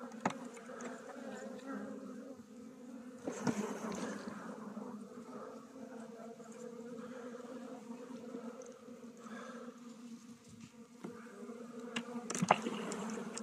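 Honeybees hum steadily inside a weak spring hive colony with a couple thousand bees, a dense, continuous close buzz with a few louder swells, no voices over it.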